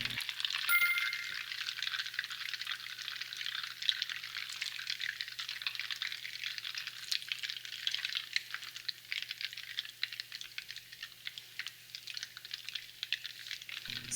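Butter sizzles as it browns in a pan, giving a soft, steady crackling hiss with light scraping as it is stirred, close and continuous throughout with no speech.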